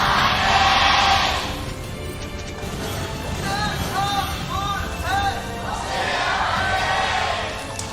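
Fans in an esports arena cheer for T1 at an LCK League of Legends match, a loud burst at the start and another swell near the end, with in-game effect sounds between.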